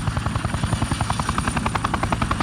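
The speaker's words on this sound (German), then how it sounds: "Mit dem Hubschrauber geht es wieder zurück." Steady rhythmic thumping of helicopter rotor blades with a constant engine whine, loud and close, no voices.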